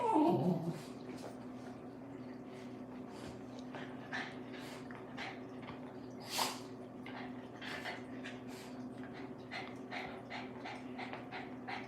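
A dog whimpers and yips in short, repeated high-pitched bursts over a steady low hum, with one louder whine in the middle.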